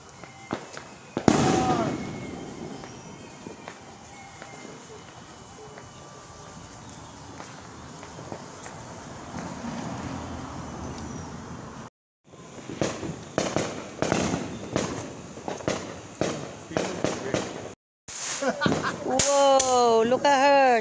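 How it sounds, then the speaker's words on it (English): Roman candle fireworks pop and crackle outdoors in a rapid series of sharp bursts with short gaps, over a steady background hiss, while family members talk and call out nearby. "Indigo, Roman candle. She likes fireworks."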